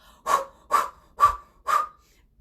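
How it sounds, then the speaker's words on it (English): Breath of fire yoga breathing pushed out through an O-shaped mouth, four sharp rhythmic exhales about half a second apart, close and clear with no talking. "We're breathing breath of fire through the O-shaped mouth."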